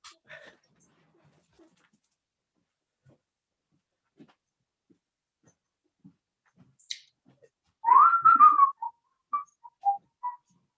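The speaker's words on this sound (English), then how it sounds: "you've been able to whistle then" A person whistles a short, wavering tune nearby during an online pop quiz, a quick run of notes after long near-silence with scattered faint clicks.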